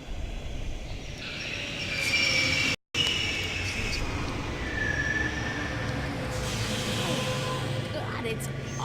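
A subway train in the video game The Longest Journey rumbles steadily with rail clatter and a brief wheel squeal, continuous and fairly loud, with one short dropout partway through.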